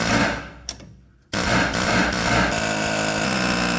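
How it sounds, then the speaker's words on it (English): A loud, continuous pneumatic rattling of an air hammer punching out rivets on a 1994 Chevy K1500's front suspension, briefly pausing, then resuming with a harsh buzzing chatter against metal. "And then I'll use my air hammer to punch them out."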